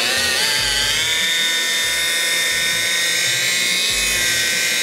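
A car paint polisher fitted with a wool pad whirs steadily at high speed close by, a constant loud tonal drone with no talking.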